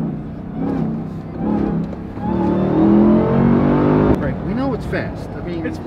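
Chrysler truck engine accelerating hard, a loud rising roar building over several seconds with a sharp shift midway, with people talking over it.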